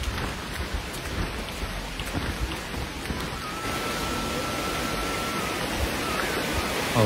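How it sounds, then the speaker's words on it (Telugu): Steady, loud rushing of a large mountain stream on the Sabarimala trekking route, broadband and continuous throughout, with a slight rise in intensity partway through. "కాలకెట్టి కంటే ముందు ఒక పెద్ద వాటర్ స్ట్రీమ్ వచ్చింది"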